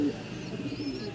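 Rajshahi Giribaz pigeons cooing softly at close range, a few low burbling coos over a quiet background.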